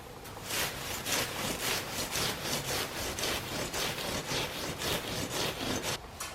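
Rhythmic scraping strokes of an old Hiram Holt Lightning hay knife cutting into a hay stack, steady back-and-forth rasping repeated many times, close and fairly loud with no talking.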